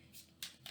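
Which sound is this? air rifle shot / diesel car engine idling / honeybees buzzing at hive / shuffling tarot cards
shuffling tarot cards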